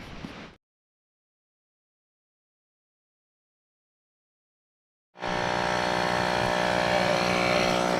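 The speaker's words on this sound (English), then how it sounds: "Using my air motor to pump up my air mattress" An electric air pump inflates an air mattress at a campsite, starting abruptly after a long silence and running as a steady, loud, buzzing motor drone with a constant pitch.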